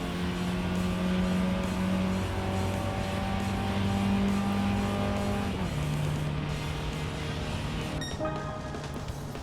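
Steady car engine drone from a Mini in the Gran Turismo 7 racing game, held at high revs with tonal harmonics that drop as it shifts near the six-second mark and again shortly before the end, loud and continuous with no talking.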